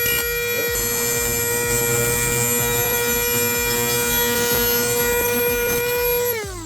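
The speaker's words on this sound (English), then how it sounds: "Sometimes the best way to remove plastic like this, little Dremel action." Little Dremel rotary tool cutting away plastic on a twin-turbo Lamborghini Gallardo during a fuel system overhaul: a steady, loud, high-pitched whine held close for the whole stretch, cutting off just before the end.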